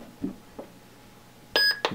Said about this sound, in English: it gives you a beep and a new boot up sound